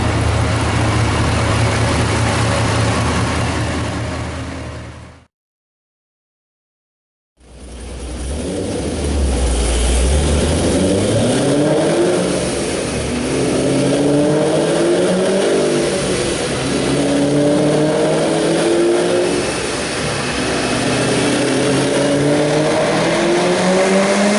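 A 2015 Chevrolet Camaro with manual transmission revs hard, its engine rising and falling in repeated loud sweeps after a brief break, close and alone without voices.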